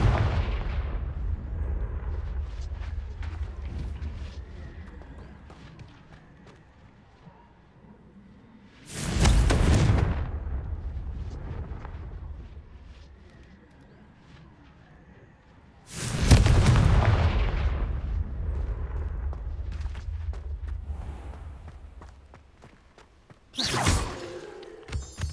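Confringo spell blasts in the video game Hogwarts Legacy, three loud booming explosions spaced several seconds apart, each followed by a long rumbling decay, with no speech.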